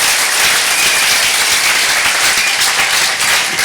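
A church congregation applauding in praise, with steady, dense clapping that holds at an even level throughout, with no voices standing out.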